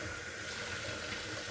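Hot water runs steadily from a kitchen tap, a continuous soft hiss and splash that stays even and fairly quiet, with no talk.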